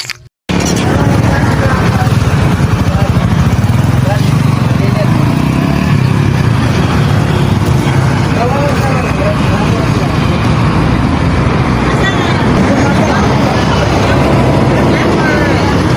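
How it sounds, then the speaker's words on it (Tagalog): A Honda Winner X150 motorcycle engine drones steadily throughout a test ride, loud and close with continuous road and wind rumble after a brief start. "Ug mao din siya ang mga motor nga atong i-test drive."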